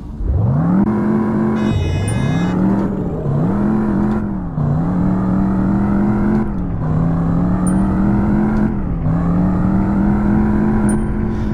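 A ute's engine revs hard on a quarter-mile launch in REVHEAD on PC, loud and close, climbing through gears in repeated rising pulls, each cut by a brief dip at the shift.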